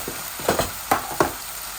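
Curry powder hits a hot frying pan, giving soft bursts of sizzling with a few stirring scrapes spread across a short moment, close and fairly quiet.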